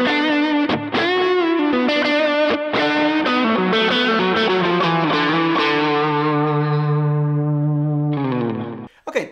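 Electric guitar through a Kemper amp with a tube screamer stacked on a light overdrive, playing a sustained run of driven lead notes that fade out near the end, loud and close with no talking.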